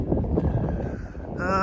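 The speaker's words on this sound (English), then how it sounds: "the wind is up" Strong wind buffets the microphone outdoors, a steady low rumbling roar throughout, with a brief brighter tonal gust near the end.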